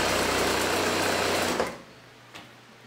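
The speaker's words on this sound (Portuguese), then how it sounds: "Vou passar aqui uma costura no centro-frente." A sewing machine runs a steady, loud stitching burst along the center front seam of a jumpsuit or blouse placket, then stops abruptly, leaving a quiet room with a faint click afterward.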